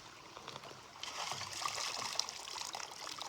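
Water trickles through a dream mat sluice during gold prospecting, a soft, steady running stream that swells a little after the first second, faint and close with no talk.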